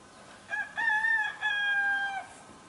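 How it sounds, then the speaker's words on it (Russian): A rooster crows outdoors on a misty morning near a lake, one clear full cock-a-doodle-doo in several rising and held phrases, fairly close and loud against a quiet background. "Ой, второй петушок запел."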